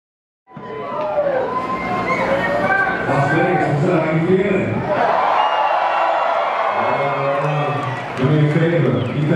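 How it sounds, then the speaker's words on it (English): A live audience cheers, whoops and applauds at a music event, a continuous loud crowd roar that swells near the end, with a few voices shouting over it. "keep that applause going"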